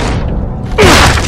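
A door is struck hard in The Last of Us, a sudden loud thud and crash with a grinding scrape near the end, following a low rumbling game backdrop.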